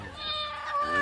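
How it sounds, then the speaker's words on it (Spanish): A cat meows a few times in a children's farm song about sounds, with the mews set against steady background music. "Hay un gato que hace miau"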